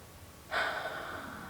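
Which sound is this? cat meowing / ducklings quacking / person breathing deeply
person breathing deeply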